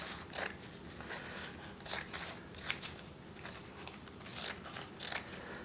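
Scissors snip through speaker grill cloth for a homemade radio in a few separate crisp cuts spaced across a quiet room, close and fairly soft, without talk.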